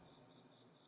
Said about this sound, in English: The night was quiet, save for the sound of grasshoppers chirping away.